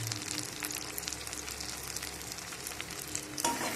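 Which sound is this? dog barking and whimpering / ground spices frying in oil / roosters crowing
ground spices frying in oil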